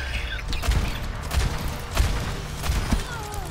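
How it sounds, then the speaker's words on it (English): Rapid gunfire from a sniper in Overwatch 2, several sharp shots spread across the moment amid game effects and background noise, fairly close and loud. "She's shooting us from high ground."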